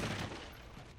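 Dense burst of gunfire in the video game Resident Evil Requiem, loud and continuous across the whole second with no talk.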